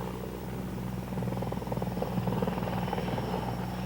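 CH-54 heavy-lift helicopter taking off, a loud, steady rotor thump and turbine drone that swells slightly as it lifts, continuous and close with no voices.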